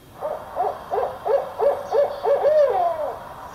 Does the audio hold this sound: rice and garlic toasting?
no